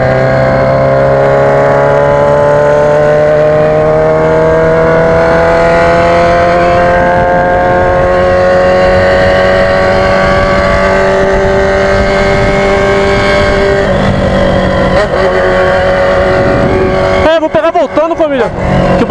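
Loud motorcycle engine with a pipe-only exhaust, held at a steady drone while riding through traffic, with gear changes and revving near the end.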